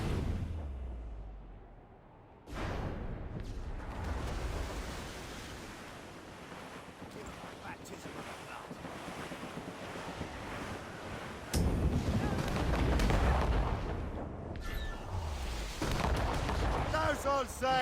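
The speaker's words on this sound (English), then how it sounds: "Cannon ready! Fire!" Ship cannons in Assassin's Creed Rogue boom in heavy bursts over rolling ocean surf and wind during a naval battle, with loud broadband blasts near 2.5 s and 11.5 s and shouted voices mixed in.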